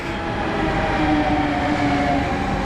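A Siemens Vectron electric locomotive rolls in with its train at a station in Silesia, giving a steady, loud rumble of rail wheels and carriages and a sustained tonal whine from the traction motors, with no voices.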